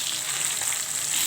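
Bata fish sizzle while frying in a pan, a steady close crackle with no talk.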